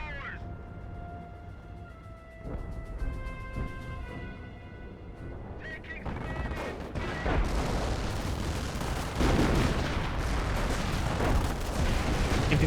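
Sustained automatic gunfire from an MP40 machine gun in Company of Heroes rattles under swelling explosions and battle noise, growing louder and denser over several seconds, with no voices.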